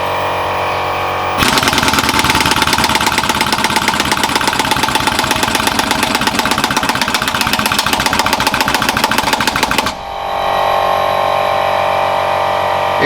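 A TX 375T machine under heavy torque load starts up after a quiet idle hum, then hammers with a loud, rapid rhythmic knocking for about eight seconds before dropping back to a lower steady drone.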